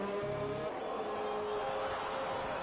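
A Mercedes Formula 1 car pulls away from the pits in F1 2021 at the Austrian race, a steady high engine whine that shifts pitch as it accelerates, with no talk.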